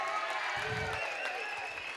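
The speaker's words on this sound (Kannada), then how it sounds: "ಅವರಿಗೆ ಜೋರಾದ ಚಪ್ಪಾಳೆಯೊಂದಿಗೆ ಅವರ ಸಭೆಗೆ ಸ್ವಾಗತಿಸ್ತೀರಿ" An audience at a temple fair gives sustained applause to welcome guests to the gathering. The clapping is steady and moderately distant, with crowd murmur underneath.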